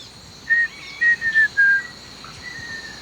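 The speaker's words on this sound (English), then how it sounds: "Black-faced ant thrush." A black-faced antthrush gives a short series of clear, piping whistled notes, fairly distant, over a steady hum of insects in the background.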